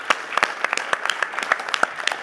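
Conference audience applauds the organizers at the close of a transportation industry panel, a lively patter of many hands clapping steadily and close by with no voices over it.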